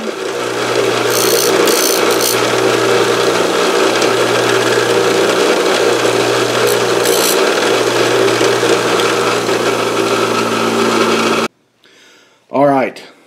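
Steady whine of a power tool dressing up a drill hole in a handmade metal fishing spoon lure, running continuously for about eleven seconds, then stopping, followed by a short spoken remark.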